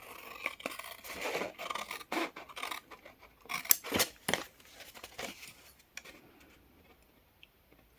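Scissors cut paper along a score line, giving a run of close, crisp snips and slicing rasps at an irregular pace, loudest around the middle, before the room goes quiet with no talk.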